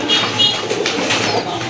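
Pigeons at a market stall where domestic and foreign breeds are sold, cooing in soft low murmurs close by with steady background noise.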